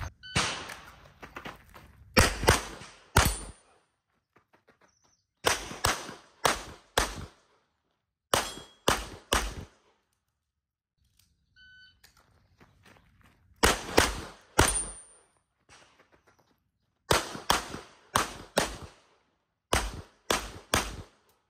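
Pistol gunshots during dynamic shooting practice at a range, sharp loud cracks fired in quick bursts of two to five with short pauses between strings, close by and with no talk.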